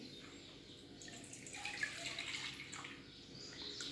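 Milk pours into a pan in a soft, continuous trickle with faint splashing, quiet and close, while making a homemade coffee caramel flan.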